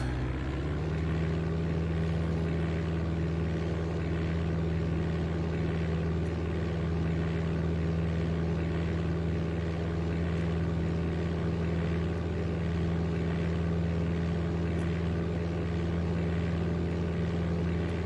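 A simulated propeller aircraft from Flight Simulator 95 holds a steady engine drone with a strong low hum, rising slightly at the start as it rolls for takeoff, loud and continuous with no voices.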